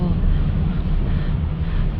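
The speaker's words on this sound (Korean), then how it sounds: "지금 바람이 불어서" Wind blows hard around a boat after sunset, heavy low gusting buffets the microphone in a continuous rumble, with speech mixed in.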